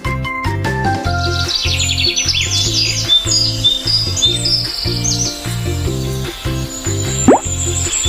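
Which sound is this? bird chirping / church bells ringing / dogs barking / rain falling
bird chirping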